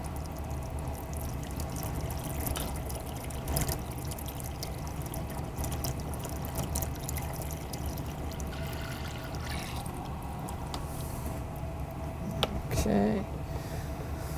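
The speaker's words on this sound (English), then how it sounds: "just drain some of the water out" Water drains out through an opened valve at the back of a groundwater model tank, a steady close pouring and trickling that runs throughout with brief clunks and a voice heard faintly underneath.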